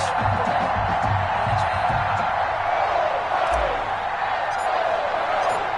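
Stadium crowd in a PS4 American football game, a 49ers versus Giants matchup, roars as a steady, loud, dense wash of noise with faint low announcer voices underneath.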